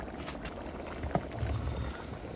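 Rice frying in meat broth in a pot on a large outdoor gas stove in a garden, a steady soft bubbling simmer, fairly faint, with a brief knock partway through.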